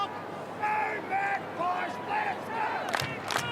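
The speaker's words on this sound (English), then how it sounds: "It is a big crowd now." A big crowd at a Carlton vs Collingwood Australian football match in 2012, a broad roar with rising shouts and cheers, while a commentator's voice runs through it.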